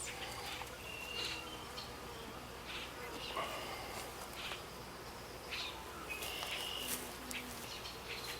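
Honey bees hum in a steady, soft drone at a beehive, the low continuous buzz punctuated by a few brief chirps and distant bird calls.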